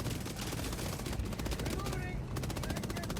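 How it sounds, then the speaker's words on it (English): Machine gun in Helldivers 2 firing rapid controlled bursts, dense repeated cracks throughout, loud and close within busy game combat noise, with a short lull before the shooting resumes. "you can take those controlled bursts at them with this machine gun"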